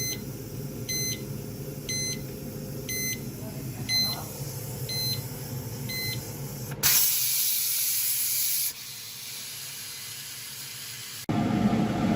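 A pressure cooker cooking carnitas gives a run of evenly spaced electronic beeps. Then a loud, sharp rush of hissing steam bursts out, eases off, and a second hiss starts near the end.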